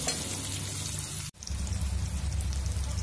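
Papaya and potato pieces, boiled with salt beforehand, fry in oil over a medium flame, giving a steady crackling sizzle that breaks off for a split second and then returns slightly fuller and louder.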